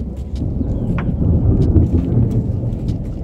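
Deep rumbling thunder rolls under steady pouring rain in East Jaintia Hills, Meghalaya, with scattered sharper drips and patters close by.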